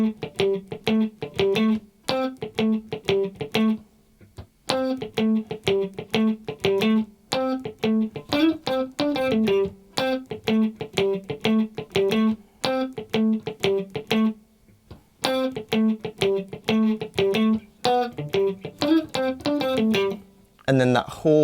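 Clean funky guitar riff in the style of a song, choppy strummed chords in a tight repeating rhythmic pattern, close and steady, with brief gaps between phrases and no talking.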